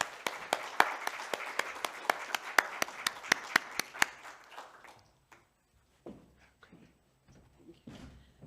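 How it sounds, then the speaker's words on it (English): Panelists at a climate festival session receive a round of applause from the audience: brisk, steady clapping for about four seconds that quickly thins out, followed by scattered faint taps and rustling as the room settles. "I want to thank the panelists and give them a round of applause"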